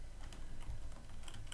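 Computer keyboard typing while renaming a ship in the strategy game Stars!, a quick burst of close light key clicks with no talking.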